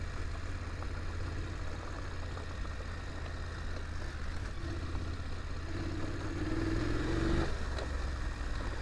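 An off-road vehicle's engine rumbles steadily on a trail ride, a low continuous drone that rises slightly in pitch and loudness near the end as it works harder.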